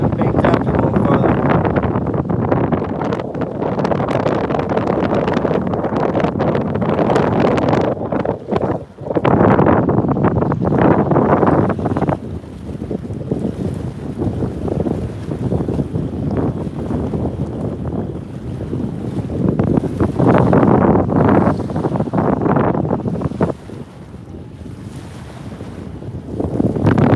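Hard wind blowing outdoors by the water in icy conditions while catfishing, loud buffeting gusts with roaring mic rumble that rise and fall in waves across the whole stretch, no talking.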